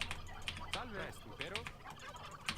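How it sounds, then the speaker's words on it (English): Turkeys in the Age of Empires II video game gobble in a few warbling bursts, mixed with rapid mouse and keyboard clicking and a voice talking faintly. "The sound of the the sound of this freaking turkeys. They keep laughing."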